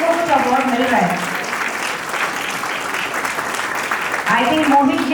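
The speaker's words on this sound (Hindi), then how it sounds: "तालियां बजती रहे तो बच्चों को लगेगा कि उनको कुछ अवार्ड मिल रहा है।" Sustained audience clapping at a play school annual day, steady and fairly loud, with adult voices talking over it at the start and end.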